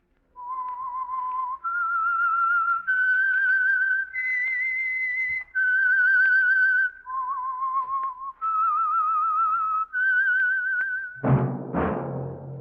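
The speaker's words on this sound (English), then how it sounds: "That whistle is your signal for the Signal Oil Program, The Whistler." A lone human whistler performs the theme signal of the 1947 radio mystery program The Whistler, a clear melodic tune of held notes stepping up and down, ending with a sudden orchestral burst.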